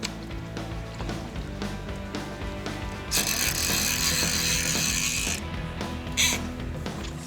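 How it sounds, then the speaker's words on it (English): A fishing reel winds braided line back onto the spool while fighting a trophy amberjack, giving steady ratcheting clicks and then a harsher hissing burst in the middle. "So I'm trying to get as much line back into the spool."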